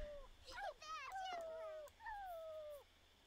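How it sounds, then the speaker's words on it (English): Pet dog in The Sims 4 needing to pee whimpers in a string of high, wavering whines, several short cries followed by two longer drawn-out ones, fairly close and clear over a faint background. "The dog needs to pee."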